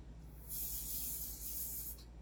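Aerosol lubricant spray onto a JWC Pit Viper airsoft gun, a single steady hiss lasting about a second and a half at close range, with no talking.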